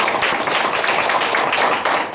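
Steady, dense clapping from an audience in a church lecture, a close, continuous patter of many hands at even loudness with no voices over it.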